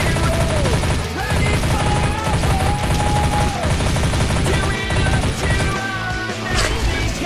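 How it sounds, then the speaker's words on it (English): Rapid gunfire fills the Zombiehunter video game as a picked-up item explodes when shot. Dense, loud bursts and crashing impacts run almost without pause, and heavier blasts break through near the end. "I just picked up the Hadouken and it explodes when you shoot it."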